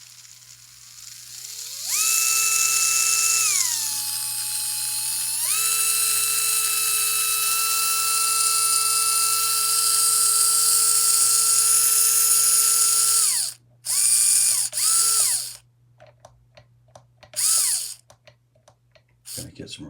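A PN Racing brushed motor for a 1/24 Bouncer RC car runs with its drive shaft off, spinning tiny gears in a high electric whine that shifts pitch, holds steady, then cuts into short bursts.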